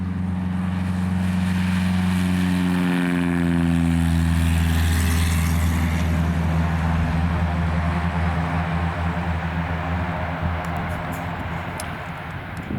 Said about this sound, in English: We're going to see the tow plane in action here in just a little bit.